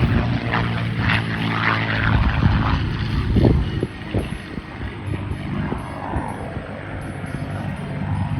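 A P-51 Mustang propeller fighter from the Second World War runs its engine, a throbbing, uneven prop drone with pulsing surges, heard up close over outdoor background noise.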